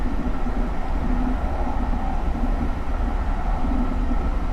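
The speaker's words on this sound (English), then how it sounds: "See how the braking is on this train?" SEPTA GE Silverliner IV train braking in Train Simulator 2019, a steady loud rumbling roar with a low hum that holds evenly throughout, with no talking.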